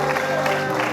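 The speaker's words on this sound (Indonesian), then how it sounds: "Tepuk tangan buat Jea." A studio audience at a televised talent show claps for a young performer, a brief, dense burst of applause with faint voices mixed in.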